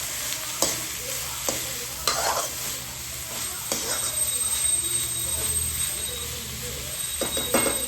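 A Gujarati-style taco filling is stirred and cooked in a pan, with a steady frying hiss under repeated sharp scrapes and taps of a spoon against the pan, close and fairly loud throughout.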